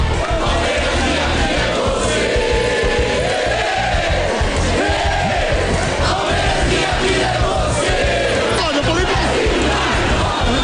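Football fans crowd in and shout loudly as goalkeeper Marcos arrives, a dense, continuous roar of many voices with rising chants and yells close by.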